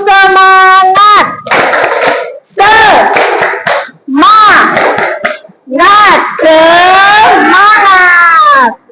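A classroom group performs a rhythmic 'tepuk semangat' clap, loud bursts of clapping mixed with children's voices chanting and shouting in short repeated phrases separated by brief pauses.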